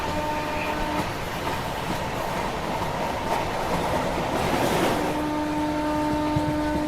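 The Leelan Express approaches on the railway, a loud, steady rumble with rattling wheels and a sustained hum, heard from aboard another moving train, swelling slightly toward the end.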